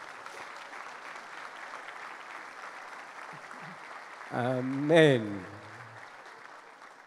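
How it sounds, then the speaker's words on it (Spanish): A church congregation applauds during a Spanish-language sermon, with sustained moderate clapping underneath and a voice briefly speaking over it toward the end. "¿Cuántos dan al Señor un aplauso por la familia?"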